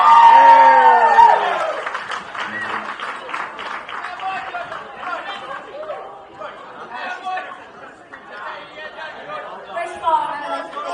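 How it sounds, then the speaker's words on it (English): Wedding guests cheer, whoop and clap for a maid of honor, with loud excited voices at first, then scattered applause and crowd chatter at a reception. "So, round of applause for Kayla right now,"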